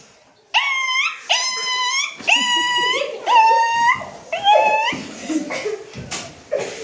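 A voice imitates a dog yelping in pain: a string of high, sharp whining cries, loud and close, gradually tapering off.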